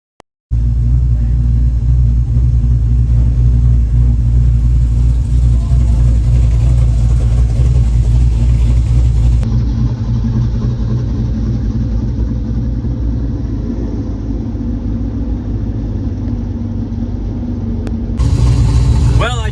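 A drag car with a stock 4.8 LS engine makes a loud, continuous low engine roar that holds steady for most of the stretch, with a brief change near the end.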